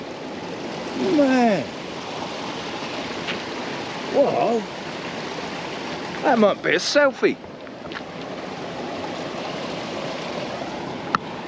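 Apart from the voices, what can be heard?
alpine freshwater stream flowing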